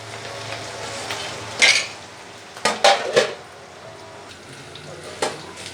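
Onions frying in a pan for a sorakaya (bottle gourd) pulusu curry, stirred with a spoon: a steady low sizzle runs under a few sharp clinks and scrapes of metal against the pan, bunched in the middle, with no talking.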